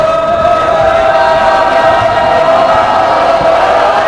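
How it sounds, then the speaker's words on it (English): A boys basketball crowd shouts steadily during free throws at a Colonials versus Lynn game. The roar is a sustained wall of voices in a gym, loud and even throughout with no clear breaks. "Crowd's really getting into it."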